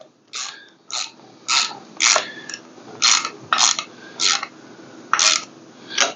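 A ratchet tightening down a wheel on a rucRak rucWagon, a series of about nine short, sharp clicking bursts in an uneven rhythm, close and clear with no talk.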